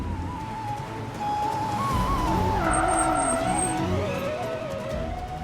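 A car is braked to a stop in a TV drama scene, its tyres squealing in a long wavering screech over a low engine rumble.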